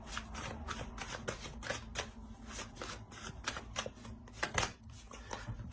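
Tarot cards riffled and shuffled in quick succession, a dense run of crisp flicking snaps close by and moderately quiet, with no voice over them.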